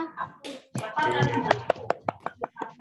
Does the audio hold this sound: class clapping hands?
yes